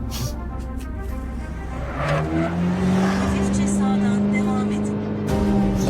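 A car engine hums steadily and rises in pitch as it speeds up, with voices talking over the motor noise.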